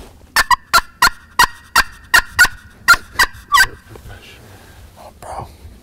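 Wild turkeys gobbling on a Virginia ridge during a hunt, a quick run of about ten loud, sharp gobbles in steady rhythm from fairly close, then fading to quieter rustling and faint calls.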